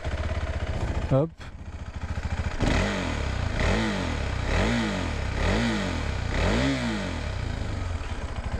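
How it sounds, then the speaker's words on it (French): A KTM 390 Adventure motorcycle's exhaust revs repeatedly, rising and falling in five or six steady blips after a brief idle, close and loud, with a short spoken word near the start. "je vous fais écouter un petit peu le bruit de l'échappement"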